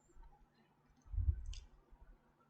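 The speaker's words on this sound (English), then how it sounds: "the moment you press M on the keyboard, this thing gets changed to markdown" A single keyboard key press on a computer while working in a Jupyter notebook, a short soft click heard close up in a quiet room with no talking.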